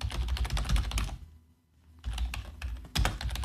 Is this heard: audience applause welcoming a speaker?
no